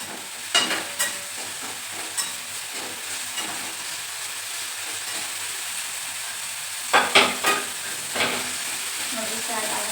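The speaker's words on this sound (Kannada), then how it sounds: "ನೋಡಿ ಫ್ರೈ ಆಗತೈತಿ" Onion and tomato fry in a pan for brinjal palya, giving a steady low sizzle with a few louder stirring scrapes and clatters near the start and toward the end.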